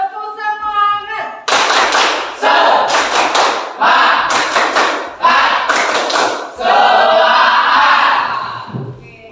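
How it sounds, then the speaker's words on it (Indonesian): Students in a classroom repeat a patterned spirit-clap cheer, with several loud bursts of group hand clapping in steady rhythm and voices chanting along, following a short spoken cue. "Sekali lagi, tepuk semangat."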